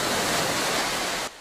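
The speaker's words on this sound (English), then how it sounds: "Northeasterly winds pushed the rolling waves westward" Waves rolling onto the Lake Erie shoreline, pushed west by northeasterly winds. A steady, loud wash of broad surf noise fills the clip and then drops off abruptly.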